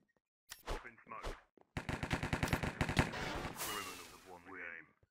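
Rapid burst of gunfire from the Minecraft Cops n' Criminals game on a Hypixel server, a loud stuttering run of evenly spaced shots lasting over a second, followed by a wash of noise, with brief talk before.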